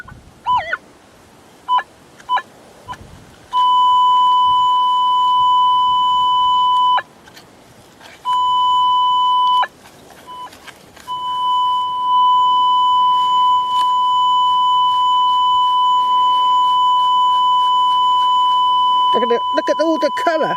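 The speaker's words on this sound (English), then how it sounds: "I don't think I've ever had such a huge signal on the detector before" A metal detector held over a large iron target emits a loud, steady tone in sustained bursts, cutting out and resuming several times before holding continuously, with a few clicks and handling knocks in between.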